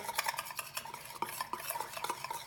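Salad dressing ingredients are briskly stirred in a bowl until emulsified, giving rapid, rhythmic scraping and clinking of utensil against dish, close and fairly quiet.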